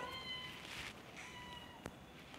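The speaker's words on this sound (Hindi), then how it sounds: "हमारी वर्कशॉप में ना बिल्ली ने बच्चे दिए हैं, पीछे म्याओं म्याओं कर रहे हैं" Newborn kittens meow faintly in a workshop, a couple of thin, drawn-out cries against a quiet background hiss.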